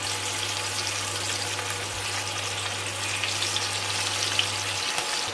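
Marinated fish fries in coconut oil with curry leaves over a medium flame, giving a steady, loud crackling sizzle with a low hum beneath that fades near the end.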